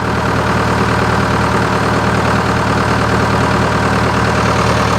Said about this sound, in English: my new old John Deere 450 crawler, dozer, loader, backhoe, beast